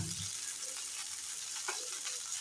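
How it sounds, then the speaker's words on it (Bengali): Ingredients for a fish and cauliflower bhuna fried in a pan until reddish, producing a steady soft sizzle with a few faint stirring scrapes. "আগে থেকে ভালোভাবে এগুলোকে একটু ভেজে নেব লাল লাল করে"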